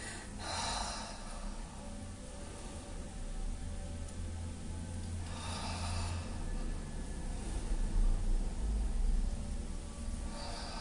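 Several deep breaths, exhaling then inhaling, during a guided breathing and arm-raising exercise; breathy rushes of air come in slow, spaced cycles over a steady low background hum.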